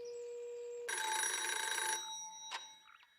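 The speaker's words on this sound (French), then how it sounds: "C'est un peu comme une sonnerie qui viendrait de loin." A telephone rings faintly for about a second, a bright electronic trill that sounds far off, surrounded by a quiet steady tone.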